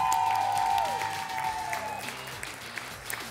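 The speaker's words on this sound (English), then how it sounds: "So give all of our contestants a big round of applause." Audience applause for contestants at a talent show finale, sustained clapping from a crowd with faint cheers, under tonal music that fades out early, then thinning toward the end.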